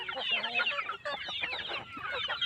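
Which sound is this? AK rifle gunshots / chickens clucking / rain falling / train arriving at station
chickens clucking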